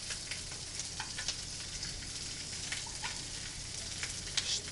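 Meat laid face down in hot oil sizzles in a pan with a constant, faint crackling hiss, scattered small pops and spits rising over it, heard close by with no talking.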